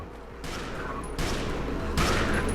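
Video game gunfire in Peripeteia, a steady, loud barrage of overlapping shots with two sharper surges of fire, no talking over it.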